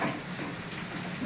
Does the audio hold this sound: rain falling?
yes